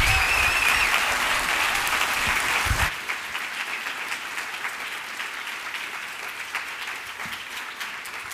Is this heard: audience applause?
yes